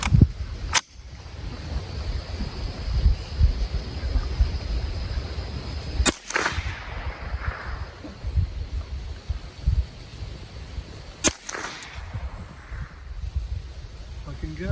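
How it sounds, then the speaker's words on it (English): Ruger 10/22 rifle firing at a target outdoors with Remington and Winchester ammunition, three sharp, well-spaced shots with quiet wind and ambient noise between them. "now we're gonna shoot the upper to left"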